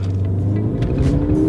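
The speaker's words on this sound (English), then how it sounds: "Out of first gear very quickly, out of second gear very quickly, and then third gear you're absolutely flying" Car accelerating hard through the gears, a loud close engine rumble whose pitch climbs steadily as the revs build, with no talk.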